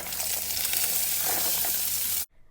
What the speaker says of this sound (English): Wipe your pan clean and add 1 tablespoon of olive oil, your corn.